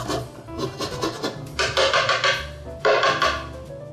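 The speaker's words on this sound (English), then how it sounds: "you're going to brush the orange along the zester, like so" An orange is brushed along a zester in a few rough, rasping strokes that come in short bursts, close and clear, with no voices.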